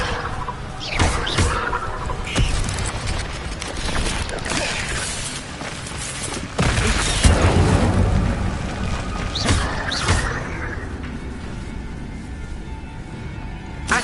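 Incendio fire spell cast in Hogwarts Legacy on PlayStation 5: a sustained roaring whoosh of flame with repeated bursts and crackling blasts, loud and close, surging strongly midway and then fading back.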